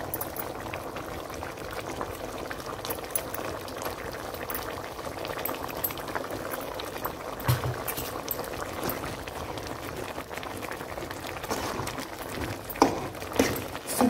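Mushroom and potato curry (kuzhambu) with toor dal bubbles steadily in a pot, a soft continuous simmer with scattered small pops and clinks, heard alone.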